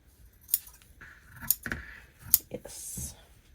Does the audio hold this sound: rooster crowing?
no